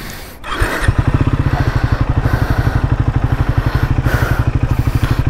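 A Triumph Scrambler 400X motorcycle engine fires up and settles into a loud, steady, close-up single-cylinder thump with a rapid even pulse, heard alone with no talk.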